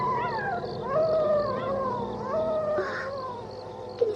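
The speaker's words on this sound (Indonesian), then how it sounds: "Dia melolong panjang sehingga menegakkan bulu kuduk siapa saja yang mendengar dan menyaksikan" A black wolf howls long at the moon, several drawn-out wavering cries that rise and fall in pitch, fairly close and unaccompanied.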